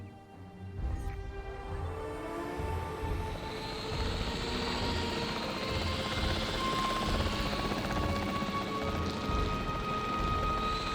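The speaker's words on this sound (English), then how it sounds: "The priority needs to be tranquilizing it with the capture team chopper." Capture team helicopter in the video game Jurassic World Evolution 3, its rotor thumping in a steady, loud rhythm under a broad engine whine that continues without a break, close and alone.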